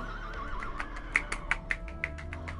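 A horse neighs in a Roblox video game, a wavering whinny followed by a run of quick, evenly spaced clip-clop hoofbeats, all fairly close and clear.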